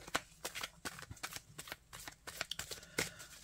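A deck of oracle cards is handled and drawn, giving a rapid series of crisp flicking and riffling snaps at a quiet, close level, with no voice.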